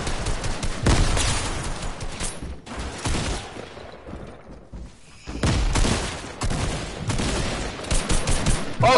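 Rapid bursts of video game gunfire crackle loudly in clustered volleys, dropping briefly into a quieter lull before the shooting erupts again, with no talking.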